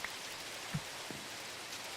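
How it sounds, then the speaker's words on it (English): Steady soft rain hiss in a video game world, Aetherial Airships, a continuous faint wash with a couple of small thuds and no talk. "It's not a thunderstorm, it's just rain."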